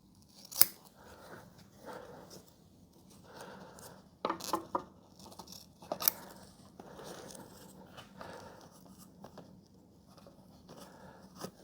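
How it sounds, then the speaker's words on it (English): Scissors snip repeatedly through Velcro strip being cut to size for a dining chair upholstery job, a series of close crisp cuts with short rustling pauses between them. "now I can cut the Velcro to size"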